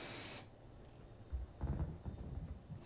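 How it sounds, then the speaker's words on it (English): A can of dry texture hair spray gives a short, sharp hiss lasting under half a second, followed by quiet handling sounds. "You can see when you spray it, the texture, like it kind of is a white mist."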